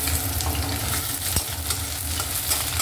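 Onion frying in hot oil with garlic and nigella seeds, a steady close sizzle with a dense crackle throughout and occasional scraping stirs, no voices.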